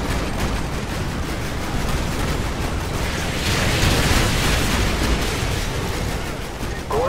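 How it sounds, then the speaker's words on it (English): Artillery strike in Call of Duty Modern Warfare 2, a continuous loud rumbling roar of distant explosions and crackling fire that swells in the middle and stays dense throughout. "Fire mission received. Artillery inbound."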